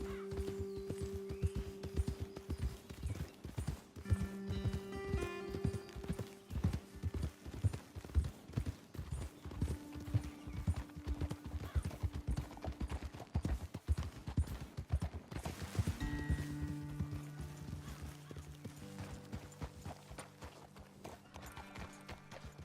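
Horses' hooves clip-clop steadily in Red Dead Redemption 2 as riders travel up a trail, with a whinny and background game music layered over the rhythmic hoofbeats.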